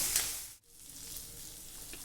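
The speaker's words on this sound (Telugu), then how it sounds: "ఈ పోపు అంతా బాగా ఫ్రై అయ్యేదాకా ఫ్రై చేసుకోవాలి" Mustard seeds, cumin, pepper and curry leaves sizzle steadily in hot oil as a tempering fries, a continuous close crackle with a brief dip in the middle and no talking.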